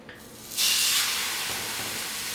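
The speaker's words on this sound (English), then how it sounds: "the oil is now starting to smoke a little bit. That's what you wanna see. And now we're just going to add in the steak" A steak hits smoking hot oil with a sudden loud hiss that swells into a sustained, bright sizzle and holds steady after the first burst.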